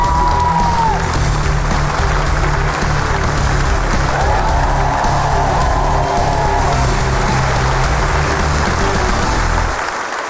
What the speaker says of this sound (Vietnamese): vỗ tay to hơn nữa để đón chào Quỳnh Chi